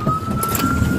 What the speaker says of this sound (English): I got my sirens on.